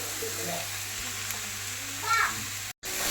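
Crushed jackfruit and grated coconut stirred together in a hot pan, giving a steady soft sizzle and scraping with a brief louder stir near the end, then a sudden cut to silence.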